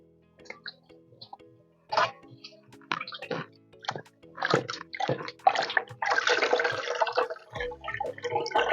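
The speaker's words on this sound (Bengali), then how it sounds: "আমি একটা নেট দিয়ে এইভাবে ধুয়ে ছেঁকে নিচ্ছি।" Chhatu mushrooms are washed in water with a net, heard as irregular splashes and drips that build into a longer rush of running water and sloshing near the end, close by, with no speech.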